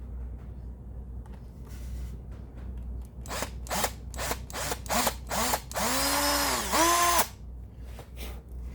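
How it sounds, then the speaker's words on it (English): A drill press bores into very fragile wood for a cigar box guitar build, in a run of short whirring bursts that ends in a longer, louder grinding pass, then quiet. "Should probably use a drill press, huh? Since I have one."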